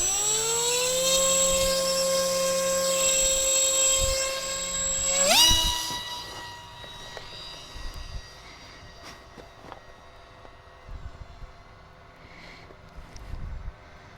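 An INAV fixed-wing RC plane's electric motor whines loud and close. Its pitch holds steady, jumps sharply upward, then the whine fades to a distant hum with wind and light outdoor noise.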